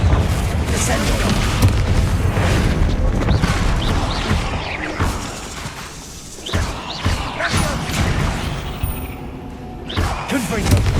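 Confringo fire spells blasting inside a tomb in Hogwarts Legacy, with several heavy booms and crackling impacts scattered across the span, mixed with character voices speaking.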